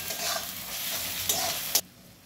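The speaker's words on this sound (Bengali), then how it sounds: "দিয়ে এটাকে ভালো করে নাড়াচাড়া করে নেবো, যাতে পেঁয়াজ টমেটোটা যাতে গলে যায়।" Kashmiri chilli powder, onion and tomato fry in a pan with a steady close sizzle while a spatula stirs and scrapes, ending in a sharp knock before the sound drops away.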